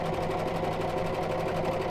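An old Janome 660 sewing machine stitches a zigzag, a steady, fast mechanical whirring hum with a rapid repetitive needle rhythm, close and continuous, with no one speaking.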